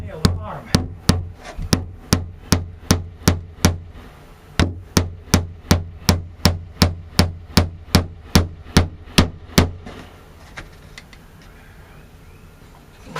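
Nails are driven with a hammer into a window flange, a long run of sharp, evenly spaced blows, close and loud, with a brief pause midway before the rapid strikes resume and then stop.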